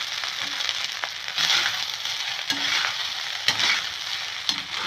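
A spoon or spatula stirs egg fried rice in a frying pan, scraping and clacking against the metal over a steady oily sizzle, with a few sharp knocks along the way; close and fairly loud, no voices.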